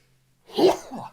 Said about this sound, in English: I need the sneeze button.